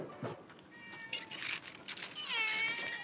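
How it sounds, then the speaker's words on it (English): A domestic cat meows several times in a row, close and fairly loud, in a household scene from a 1944 British film. "No sense in buttering that cat's paws."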